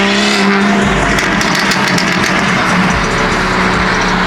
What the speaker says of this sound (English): E46 drift car